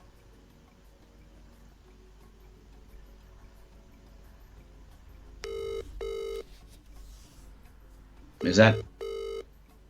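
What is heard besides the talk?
telephone dialing to phone a friend during quiz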